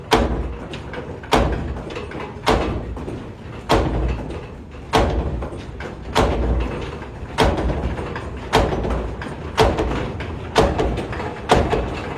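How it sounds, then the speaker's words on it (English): Wind-powered stamps in a Dutch windmill oil mill pound oil cake to press out the last oil, heavy wooden thuds landing in a steady rhythm about every 1.2 seconds, loud and close over a rumbling mill background. "now they're pounding it to get the last little bit of oil"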